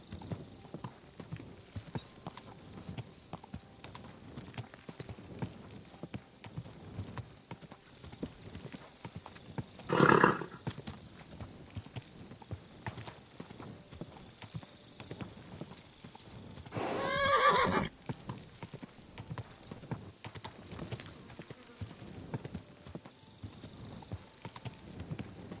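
Horse hooves clip-clop steadily through a medieval video game scene in Kingdom Come 2, with two louder neighs rising above the trotting, the first around the middle and another shortly after.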